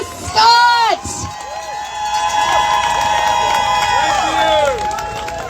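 Crowd at an outdoor farmers' protest in Edmonton, Alberta cheers and shouts for a man who has just been introduced, loud and steady. Some voices rise above the roar throughout, with a few bursts of whooping near the start.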